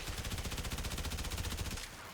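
Fulmin rifle mode firing in Warframe, a fast, steady automatic stream of evenly spaced shots lasting nearly two seconds with no talk, ending abruptly.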